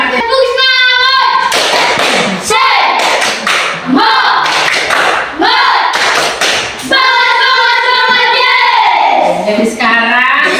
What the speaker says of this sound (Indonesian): Tepuk semangat dulu untuk kelas 4 ya.